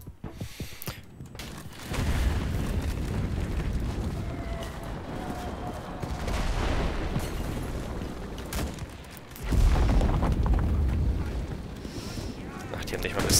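Rocket explosions in the World War II shooter game Enlisted, Normandy battle, heavy low booms and rumbling blasts that swell and recede amid battlefield noise, with someone talking over them.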